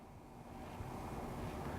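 Water sloshes and washes steadily in a gold pan during the wash, a continuous, fairly close swirling rush with no voices.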